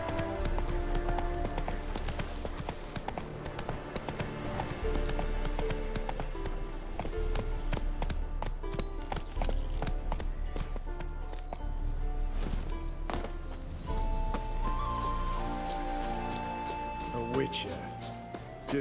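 Roach, Geralt's horse in The Witcher 3: Wild Hunt, runs with rhythmic hoof clatter at moderate volume. Game music and voices play over it, and someone speaks at times.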